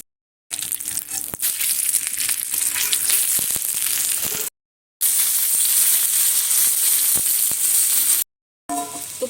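Stuffed bread rolls sizzle and crackle steadily in hot oil, a loud, dense frying hiss with small pops, broken by two short silent gaps.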